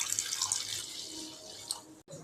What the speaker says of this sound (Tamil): நல்லா சூடானோடனே தண்ணி ஊற்றிக்கலாம் காய்ஸ்.